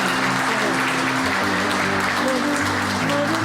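Audience applause at a Portuguese-language group presentation, steady and dense clapping throughout, with a faint voice or two under the crowd.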